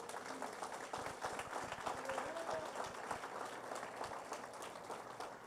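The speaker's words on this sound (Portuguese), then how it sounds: "Você pode dar um glória a Deus por isso e um aplauso a Jesus por isso?" A church congregation claps in a steady, moderate burst of applause, distant and fairly quiet, with a faint murmur of voices mixed in.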